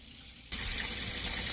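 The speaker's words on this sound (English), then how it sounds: "we wash the berries" Tap water from a kitchen faucet suddenly starts running and gushes steadily into a sink while blueberries are being washed, a loud, close hiss that continues without pause.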